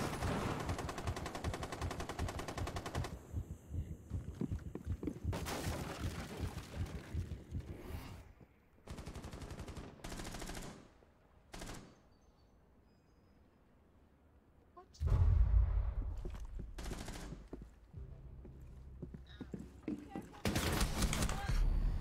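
M249 SAW machine gun in Rainbow Six Siege, long sustained bursts of rapid automatic fire broken by pauses and scattered single shots, loud and close, with someone talking at times between the volleys.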